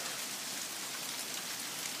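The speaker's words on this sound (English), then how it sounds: "It's a rainy day today." Steady rain falls outdoors on a wet day, a dense, even hiss of drops pattering on surfaces with no pauses and no voices.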